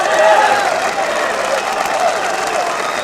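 A large golf crowd at the 1994 U.S. Open final round at Oakmont applauding, sustained clapping that starts strong and carries on steadily at moderate distance.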